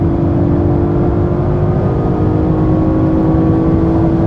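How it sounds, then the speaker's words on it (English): A 2020 Audi RS5 Coupé accelerating on the highway, heard from inside as a loud, steady low engine drone with tyre and wind roar, constant and unbroken throughout. "So now we can accelerate further."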